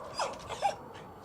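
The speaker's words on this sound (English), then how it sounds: "An Arctic dog's place is outside." An Arctic dog whimpers in a couple of short, soft, high whines, close but faint against a quiet background.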